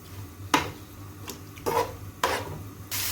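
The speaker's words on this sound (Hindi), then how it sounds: "अब इसमें मैं ये चिकन ऐड कर दूंगी।" Pieces of chicken drop into a pan of frying ginger and garlic, making several sharp scraping, sizzling bursts spaced irregularly over a low steady hiss, with a louder sizzle rising at the end.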